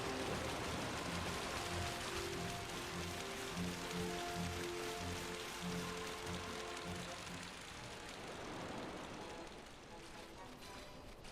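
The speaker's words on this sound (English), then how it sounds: "I didn't notice the rain until literally just now." Steady rain falls in the Final Fantasy XII video game, a continuous close hiss of drops layered with tonal game music that fades out toward the end.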